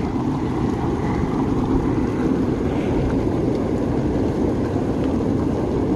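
Terminal Geyser, a hot spring on the Pacific Crest Trail near Drakesbad, bubbles and hisses close by in a continuous, dense, rushing wash of sound with no pauses.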